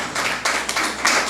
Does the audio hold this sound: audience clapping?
yes